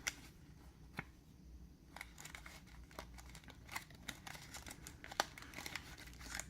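Japanese Game Boy Advance game being unpacked from its box: close, crisp crinkling and rustling of packaging with scattered sharp clicks and taps, steady handling noise throughout, no talking.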